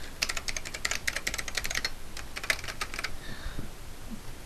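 A password being typed on a computer keyboard in a VB.NET login tutorial, a quick run of close, crisp key clicks for about three seconds before the keys go quiet.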